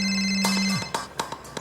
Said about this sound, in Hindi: उनके मोबाइल पर एक कॉल आता है